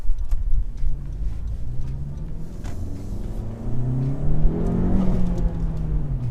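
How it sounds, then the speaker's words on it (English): A modified, tuned Honda Civic Type R hatchback accelerating, its engine and intake note rising through revs as a loud, close rumble with a climbing whine, with no talk over it. "there's an interesting intake sound."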